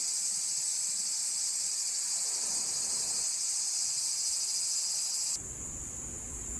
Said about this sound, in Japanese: セミの声を聞くだけで汗が噴き出してくるね。